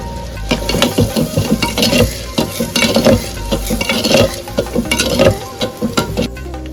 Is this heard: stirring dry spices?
yes